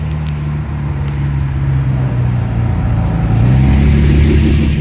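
A Lamborghini Countach's engine drones loud and close, a deep steady rumble whose pitch shifts between gears as the car accelerates, with no talking over it.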